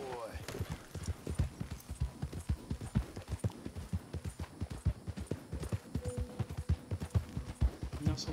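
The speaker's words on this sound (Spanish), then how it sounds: "se van en el caballo." Galloping horse hooves from the Red Dead Redemption 2 video game, a steady rapid clip-clop rhythm running throughout under continuous talking, with a brief whinny near the start.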